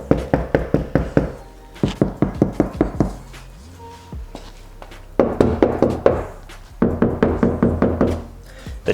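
Rapid rounds of knuckle knocks on two doors, one sound-dampened and one not, some sharp and ringing, others dull and muffled, with brief pauses between bursts.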